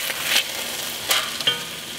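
Meat browns in a Crofton cast iron braiser, a constant close sizzle with a few brief louder scrapes as pieces are turned, and no voices.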